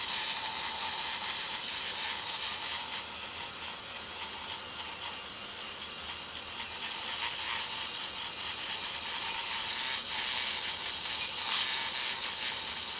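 A handheld rotary tool running wire brushes over the faceplate of a Singer 66 sewing machine, giving a continuous close, hissing scrape with faint ratcheting catches and a brief sharper snag near the end.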